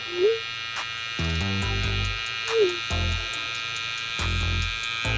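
An electric hair trimmer buzzes close up during a haircut, starting and stopping in short bursts between brief tonal chirps.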